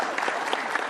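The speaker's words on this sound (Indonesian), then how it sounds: "Kita kasih tepuk tangan dong." Studio audience applause on a talk show, a brief, dense burst of clapping heard up close for under a second.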